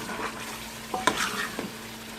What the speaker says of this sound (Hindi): मैं गोश्त भून रही हूँ